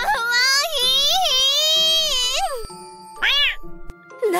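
A single-eyed white cat meows in several drawn-out, rising and falling cries, loud and close, over a faint background tone with occasional small chime-like ticks.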